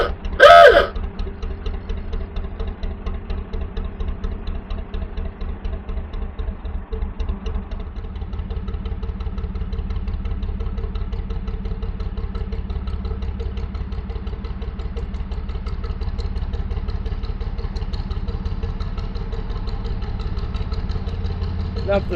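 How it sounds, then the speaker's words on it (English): A narrowboat's diesel engine chugs steadily under a canal bridge, a close, even rhythmic knocking hum that runs throughout after a brief louder clatter at the start. "Love the sound of the engine when going under the bridge"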